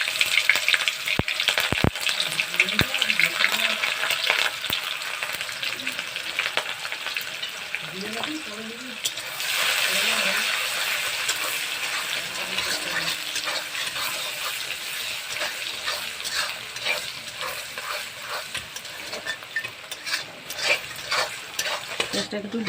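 Mashed beetroot ground with garlic and green chili sizzles and fries steadily in a pan, with occasional stirring scrapes and a few sharp clinks, close and continuous throughout.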